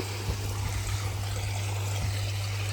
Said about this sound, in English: And I'll just get that bubbling away there.